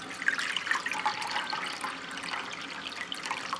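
Water poured from a four-cup measuring cup into a pot on a double-burner electric hot plate in a home kitchen, a steady splashing stream that runs close and alone throughout.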